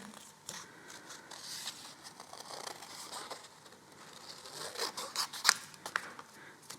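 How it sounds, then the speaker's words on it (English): Scissors snip and crunch through paper in a quick series of close, soft cuts, growing a little louder toward the end. "in kindergarten you really got to start using those scissors"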